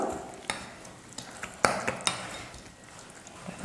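Fried onions are mixed into semolina batter for instant rava paniyaram, a spoon scraping and clinking against the bowl in irregular strokes over a faint sizzle-like hiss, close and fairly loud, with no talking.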